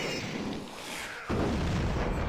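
Grenade launcher blast in a shooter video game: a sudden loud, deep boom about halfway through, following a steady roar of game noise, with the heavy rumble sustained to the end.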